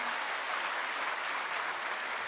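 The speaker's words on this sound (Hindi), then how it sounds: "और जोरदार तालियां बजाकर हम" A dense, continuous wash of clapping from an audience fills the hall at a book release ceremony for a Hindi book academy's golden jubilee, steady and evenly loud throughout.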